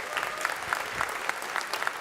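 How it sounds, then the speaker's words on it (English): Audience clapping at a university 50th anniversary commemorative celebration, moderately quiet and evenly sustained, with individual claps audible across a large hall. "Please give her a round of applause."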